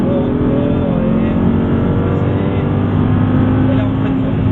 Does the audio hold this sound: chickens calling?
no